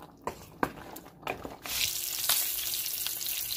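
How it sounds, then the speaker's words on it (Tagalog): A few faint clinks and taps, then a sudden steady sizzle of galunggong fish frying in hot oil in a pan, crackling continuously up close. "Tapos, prito tayo ng galunggong."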